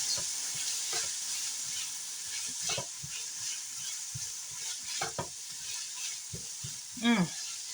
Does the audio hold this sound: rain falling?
no